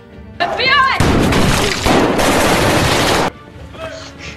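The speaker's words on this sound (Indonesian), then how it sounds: "seketika itu dia langsung membalas tembakan" A loud burst of rapid gunfire from a scene in the film Sicario crackles for a few seconds amid shouting voices, then cuts off, leaving brief voices afterward.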